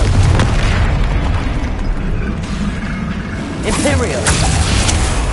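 A Confringo spell goes off in the Hogwarts Legacy video game as a loud, booming fiery blast over dense battle noise. A voice calls out over the din.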